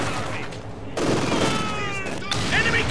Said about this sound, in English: Oh yeah, I'm shooting bazooka then.